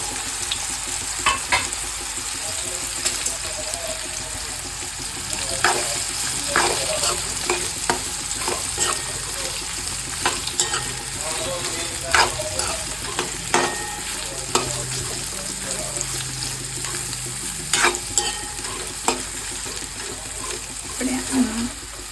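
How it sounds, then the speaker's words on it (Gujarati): Ridge gourd pieces sizzle steadily in hot oil seasoned with asafoetida in a pan for a Gujarati curry. A spoon scrapes and clacks against the pan in frequent sharp strokes over the constant frying hiss. "હવે આપણે આમાં તુરિયા નાખી દઈશું"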